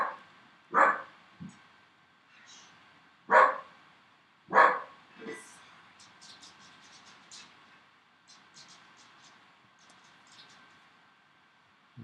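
A dog barks three times, about one to two seconds apart, at moderate distance, followed by faint high squeaks and quiet background.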